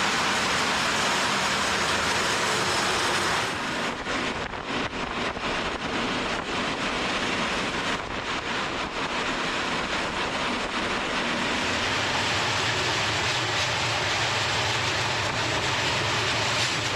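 A steady, broad rumble and rushing roar of a slow-moving train in Croatia, heard from inside, continuing unbroken with slight shifts in tone.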